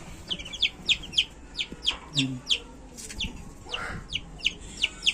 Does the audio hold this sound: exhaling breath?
no